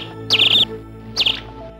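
Birdsong of two short chirping phrases, each a rapid burst of bright high trills, the first longer and the second briefer, heard clearly over a steady low background hum.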